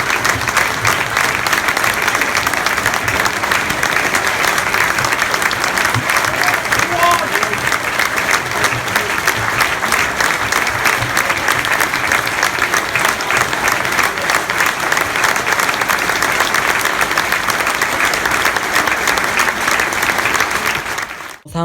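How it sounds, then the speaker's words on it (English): Football fans of both sides at a Northampton Town versus Plymouth Argyle match fill the stadium with a minute's sustained applause, a dense, steady roar of clapping from a large crowd that holds evenly throughout before cutting off at the end. "both sets of fans took part in a minute's applause"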